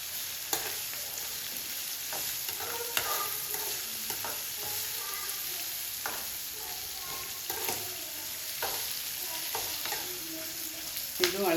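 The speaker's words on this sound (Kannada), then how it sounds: "ಸಾಲ್ಟ್ ಹಾಕೊಂಡ್ರೆ ಸ್ವಲ್ಪ ಚೆನ್ನಾಗಿ ಕೆಂಪು ಬೇಯ್ಕೊಳ್ಳುತ್ತೆ ಈರುಳ್ಳಿ" Chopped onions with salt fry in oil for a tamarind gojju, giving a continuous bright sizzle. Irregular spatula scrapes and clinks sound close by, and no one speaks throughout.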